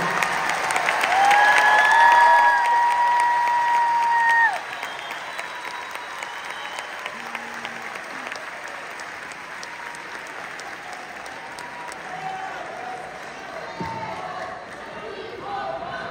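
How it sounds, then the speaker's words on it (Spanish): A concert crowd at the Rosemont Theatre in Chicago applauds the musical director of a show, loud broadband clapping and cheering that swells for about four seconds, then continues more softly under lingering sustained tones. "Quiero pedir un aplauso fuerte para este gran veracruzano"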